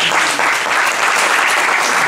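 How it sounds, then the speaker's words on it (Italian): An audience applauds steadily and loudly at an Italian event about Carlo Galeotti's book on the white rose, a dense continuous clapping wash with no voices over it. "applauso di incoraggiamento adesso facciamo"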